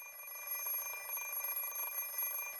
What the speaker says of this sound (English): The alarm clock doesn't speak my language. So why does the ringing sound like it's telling me you're going to be late?